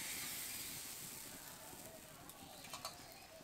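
A ladle of rice batter for dudh chitoi pitha hitting a hot oiled clay pan, with a soft steady hiss that fades slightly, plus a few faint clicks near the end.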